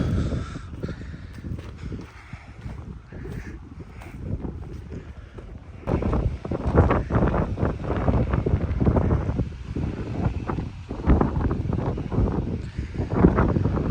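Gusty wind ahead of rain buffets the microphone in rough, low rumbling bursts, growing stronger partway through, with faint bird caws in the distance, on farmland at sunflower sowing time.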